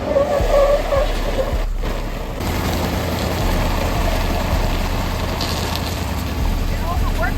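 A turbo Sierra truck engine straining on a flat tire, a loud continuous rough roar with grinding and scraping texture and a brief dip near the start, voices talking over it.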